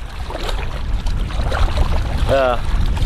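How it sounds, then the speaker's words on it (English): Gusty north wind buffets the microphone as choppy water slaps around a canoe on Waldo Lake, Oregon, loud and close, with a voice briefly rising over it. "Gnarly wind coming from the north."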